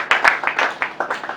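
A church congregation applauds, a short spell of scattered, uneven hand claps, moderately close and without talk.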